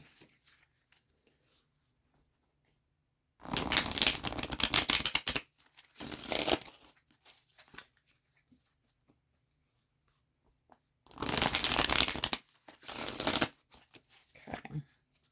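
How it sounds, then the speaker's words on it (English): Tarot cards are shuffled in four quick bursts of riffling and flicking, close up, separated by quiet pauses. "we're going to shuffle out these cards"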